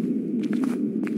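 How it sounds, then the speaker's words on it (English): Footsteps in a dark horror video game set in a school, a few soft steps heard over a steady low background hum. "I hear footsteps or something closing."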